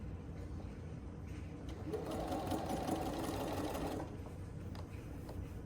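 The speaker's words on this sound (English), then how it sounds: "then we are going to start sewing" A sewing machine stitching a Halloween tote bag, running in one steady, moderately loud whirring burst of about two seconds, with quieter handling before and after and no speech.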